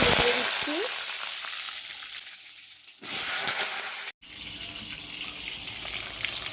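Potatoes fry in hot oil for a mutton curry, a dense, close crackling sizzle that fades slightly, cuts out abruptly twice, then resumes just as strongly.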